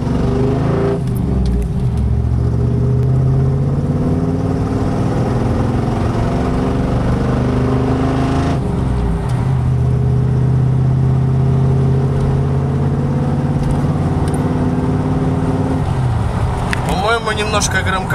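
A K5 Blazer with dual 2.5-inch exhaust pipes drives on a road, its engine droning loud and steady. It rises and falls in pitch with throttle changes and stays continuous throughout, with no talk over it.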